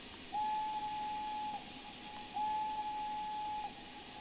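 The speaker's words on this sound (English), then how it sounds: "we're going to do the whistle twice" Two long, clear steam locomotive whistle blasts in Train Sim World 3 sound at moderate loudness over a soft background hiss, separated by a brief gap.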